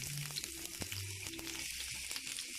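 Onions dropped into hot oil in a pan sizzle and crackle steadily at close range, a dense frying hiss filling the whole stretch with no talk.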